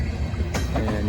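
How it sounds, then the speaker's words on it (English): A Norfolk Southern grain train led by a Wabash heritage unit passes in Ridgeway, Virginia, a loud, steady rail rumble with a brief sharp burst of noise midway. "Norfolk Southern Grain Train, WABASH Heritage Unit"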